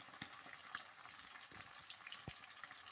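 Small puthi fish frying in a pan, a faint, steady hiss of oil with a few soft taps and stirring clicks, heard alone without any voices.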